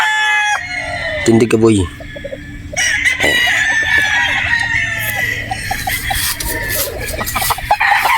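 A 5K straight-comb gamecock broodstag crows loudly nearby, followed by clucking and other fowl calls around a farm, with someone speaking briefly at the start.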